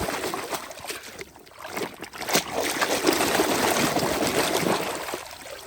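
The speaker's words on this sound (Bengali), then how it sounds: "আমি কিন্তু পানিতে ঝাঁকুনি দিয়ে সবগুলো টয়েসকে আজকে ক্লিন করে তোমাদের সাথে ইন্ট্রোডিউস করিয়ে দিব" Muddy toy vehicles, a mixer truck among them, are shaken and sloshed by hand in pond water, giving a steady busy splashing and trickling that swells after a brief lull and continues to the end.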